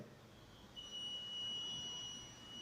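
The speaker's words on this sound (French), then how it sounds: "Le système déclenche une alarme pour signaler qu'il y a quelqu'un qui essaie d'entrer" A thin, high-pitched electronic alarm tone from an RFID door access buzzer, triggered by an unauthorized entry attempt, sounds steadily for about a second and a half over a low background hum, fairly faint.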